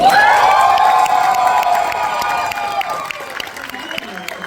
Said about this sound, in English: So are you guys going to start cheering?